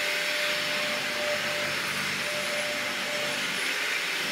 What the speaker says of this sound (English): I'm gonna vacuum because you should vacuum your house every day.